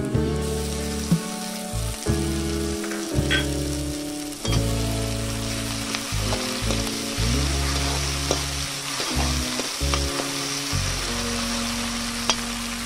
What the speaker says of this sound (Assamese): এতিয়া তেলৰ পাকতে এইটো অলপ ভাজি ল'ম মাছখিনি।